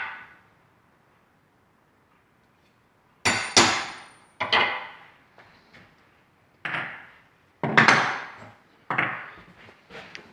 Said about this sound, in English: I take a center punch like this one, and a hammer, and I drive that center punch